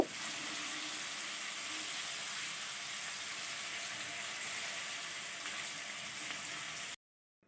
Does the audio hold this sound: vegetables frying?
yes